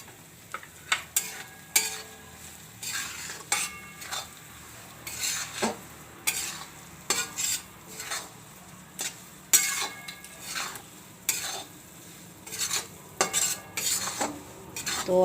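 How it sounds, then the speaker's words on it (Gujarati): Flour being roasted in ghee on a low flame for adadiya pak, with a spoon scraping and clinking against the pan in irregular bursts over a soft sizzle. "ધીમા ગેસે આપણે એને લોટને શેકવાનો એકદમ સરસ."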